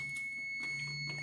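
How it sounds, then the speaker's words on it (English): A malfunctioning kitchen oven that won't stop sounding gives off a quiet, continuous electronic tone that holds steady throughout, with faint room noise beneath. "It started beeping like crazy."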